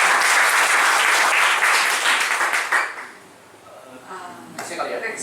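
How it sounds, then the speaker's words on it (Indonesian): An audience applauds at a seminar, dense clapping that holds loud for nearly three seconds and then thins out, giving way to quieter room sound and some talk. "Boleh tepuk tangan dulu."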